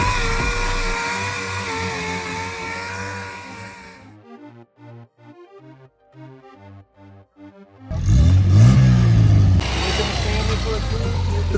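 Porsche 924 engine sounding truck-like after coolant hose repair, a loud rough idle and rev that drops out, leaves a few sparse quieter knocks, then returns with a strong rising rev.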